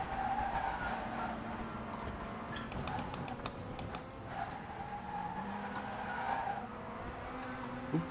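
A Formula 4 race car in a racing game slides with oversteer, tires squealing in a sustained howl over a constant engine note, with a few short ticking clicks and no voices.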